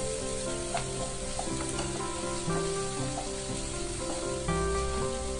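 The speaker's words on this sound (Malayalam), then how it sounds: "എല്ലാം കൂടെ ഒന്ന് വഴറ്റി കൊടുക്കാം" Ginger garlic paste and green chilies sautéing in a pan for Kerala-style pepper chicken, a steady close sizzle and hiss with occasional scrapes and clinks of a stirring spoon, no voices.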